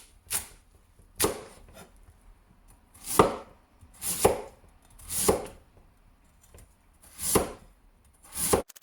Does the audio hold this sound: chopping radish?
yes